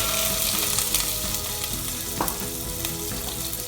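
Chopped onion and a green chili sizzle in hot oil with spluttering mustard seeds in a pan, the base for a bottle gourd and dried shrimp bhaji; a steady, loud frying hiss continues throughout with a few sharp pops.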